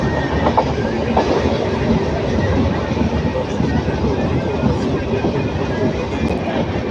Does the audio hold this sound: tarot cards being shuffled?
no